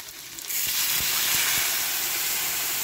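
Potatoes fry hard with dried red chillies and panch phoron in hot oil, a loud steady sizzle that swells after a brief quieter start and holds, with a few soft stirring knocks in the pan.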